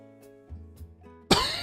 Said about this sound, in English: I'm sorry that I'm coughing a lot.